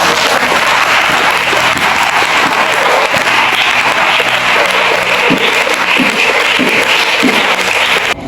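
A church congregation claps together in loud, sustained applause to acclaim the Lord, a dense steady roar of many hands close by with faint voices mixed in.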